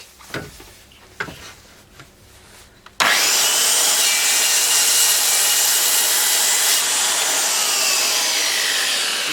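Dewalt DWE576K corded circular saw cutting wood: after a few quiet handling clicks, a loud, steady whining roar of the blade through the board starts abruptly and continues to the end, close and alone.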